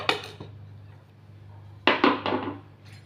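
A metal lid is set onto a cooking pot of papaya for pita, giving a sharp clatter at the start, then after a quiet stretch a few more clanks and rattles of metal on metal, close and fairly clear.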